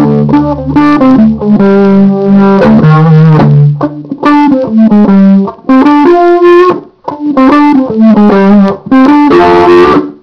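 Electric guitar notes and chords run through a Univibe pedal's throbbing, pulsing modulation effect, played loud in short phrases with brief gaps between them.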